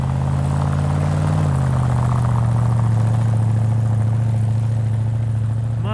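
A Jeep engine drones steadily as it creeps up a snowy slope, its low hum dropping in pitch early on and then holding a strained, continuous note.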